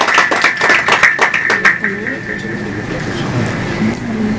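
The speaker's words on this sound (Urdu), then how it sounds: "زوردار تالیوں کے ساتھ۔" An audience at an Urdu poetry gathering breaks into brisk, loud applause that lasts under two seconds, then dies into a hall murmur and faint voices.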